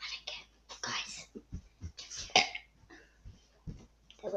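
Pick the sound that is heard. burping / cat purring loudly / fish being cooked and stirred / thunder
burping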